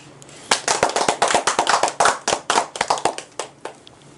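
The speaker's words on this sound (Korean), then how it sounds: "박수로 고맙다는 인사를 한번 올릴까 합니다." An audience at a lecture claps their hands in thanks, a few seconds of crisp, uneven clapping that starts sharply, stays dense, then thins out toward the end.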